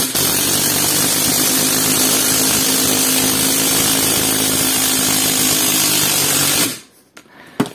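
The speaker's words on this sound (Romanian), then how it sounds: "va încerca să bage cât mai rapid acest șurub" A cordless power drill, Parkside or Ryobi, drives a screw at full speed in a loud, steady, buzzing whine lasting about seven seconds, then cuts off abruptly, leaving near silence and a small knock.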